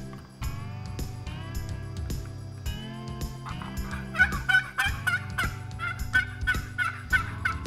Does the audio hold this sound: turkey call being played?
yes